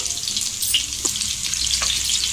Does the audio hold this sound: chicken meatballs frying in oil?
yes